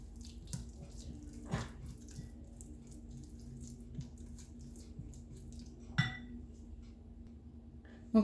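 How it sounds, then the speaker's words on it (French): A tablespoon of water trickles into bread dough for cheese-filled bread balls in a home kitchen, heard as a few soft, faint splashes and light clinks over a low steady hum. "Donc moi là je vais rajouter à peu près une grande cuillère d'eau."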